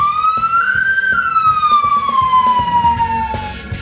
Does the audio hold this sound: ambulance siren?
yes